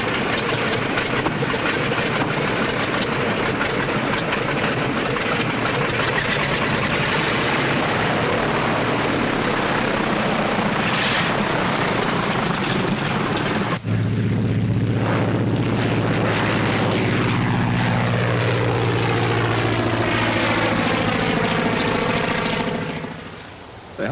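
A propeller airplane drones steadily in flight, a loud continuous engine roar, with a shift partway through and a rising, wavering pitch after it, fading at the very end.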